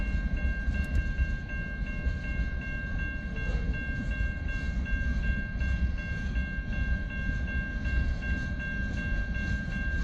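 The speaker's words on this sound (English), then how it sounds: "We followed the train through the fading light to Townsend" A BNSF freight train hauling a Boeing 737 Max fuselage rolls past near Townsend at dusk, a steady rumbling roar with faint wheel clatter and high ringing tones throughout, no voices.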